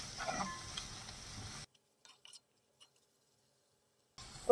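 Chicken thokku masala sautéing and being stirred in a pan, a soft sizzle with scraping stir strokes for a second and a half, then near silence before the sizzle returns.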